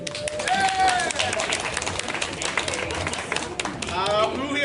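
An audience at an improv comedy show at a tabletop gaming convention claps in a dense, steady burst of applause, with a voice talking over it throughout.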